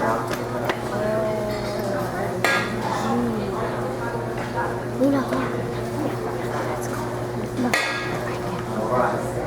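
Dishes, pots and utensils clink and clatter steadily as food is served out at an outdoor Italian festival cooking show featuring gourmet olive oil, with people chatting throughout.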